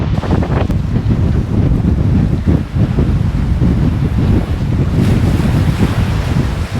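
Strong wind buffets the microphone on an exposed coastal cliff walk at Ardmore, with surf below. A loud, continuous roar and blustery rumble run throughout, and the gusts swell and ease with no voices.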